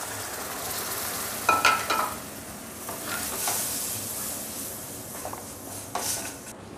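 Tomato purée added to a hot pan for dal makhani: continuous close sizzling and frying with a few clinks and scrapes of a spoon stirring against the pan.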